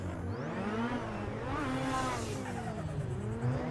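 A drift car's engine surges and revs during a tandem drifting run on a track, the pitch sweeping up and down with throttle changes, loud and continuous with no talk.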